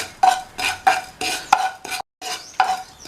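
A spoon stirs asafoetida powder as it roasts in a pan, scraping the metal in a steady run of short strokes with one brief pause near the end.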